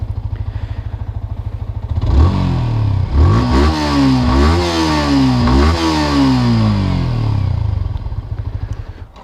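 A Yamaha R15 V3 motorcycle engine idles with a close, even thrum, then gets several sharp throttle blips that rise and fall before it settles back to idle.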